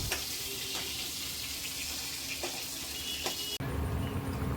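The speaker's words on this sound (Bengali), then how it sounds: "এরপরে আমি মাছগুলোকে আর একটু ওলট পালট করে নিয়ে ভেজে নিয়ে এরপরে নামিয়ে ফেলবো।" Fish sizzles steadily as it fries in a pan, a dense close-up crackle with a few louder pops and a brief dropout before the frying swells back, heavier and fuller.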